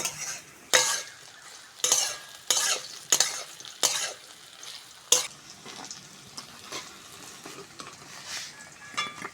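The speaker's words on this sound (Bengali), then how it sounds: "ভেজে নিয়েছি এবার তেল থেকে তুলে নেব ডাল" Lentils sizzle in hot oil in a kadai as they are stirred and fried, with sharp, irregular scrapes and clinks of a spoon against the pan cutting through a constant close hiss.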